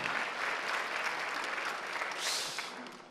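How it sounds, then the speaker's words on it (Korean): A church congregation at a Sunday worship service claps in thanks, producing a soft, steady wash of applause with faint voices underneath. "하나님께 감사의 박수 칩시다"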